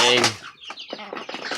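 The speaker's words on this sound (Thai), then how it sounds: "เตะกันตะพึดตะพือไก่กันดิตีกันเอง" Rural farmyard chickens fighting one another: a loud, harmonic rooster-like squawk at the start, then scattered clucks and scuffling noises, with a person talking over part of it.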